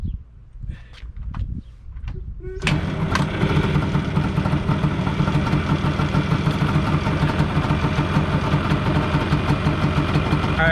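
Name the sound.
Yamaha Banshee ATV engine idling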